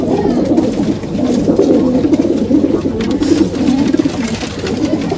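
Punjabi Malwai pigeons cooing in steady, overlapping low murmurs close by, a continuous soft warbling throughout.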